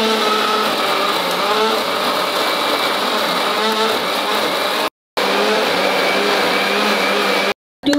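An electric grinder whirs loudly and steadily as it grinds red chilies for prawn curry, cutting out briefly twice between bursts of spinning.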